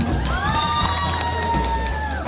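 An audience at the 2021 Putra Putri Pariwisata Bone tourism pageant cheers and whoops with steady crowd noise and shrill voices throughout, loud and close, with no clear talking.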